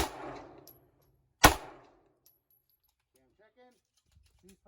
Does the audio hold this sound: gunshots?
yes